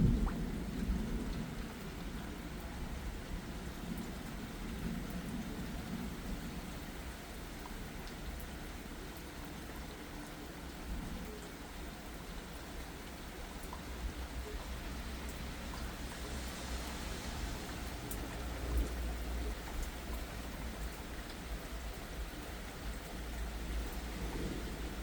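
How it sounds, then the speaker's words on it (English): Steady heavy rain pours through a strong thunderstorm in Valley Stream, New York, with low rumbling thunder rolling underneath, a continuous dense wash of sound with no voices. "The rain's picking up again."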